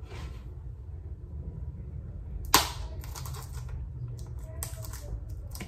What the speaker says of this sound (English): I have to use a scissor to unbox.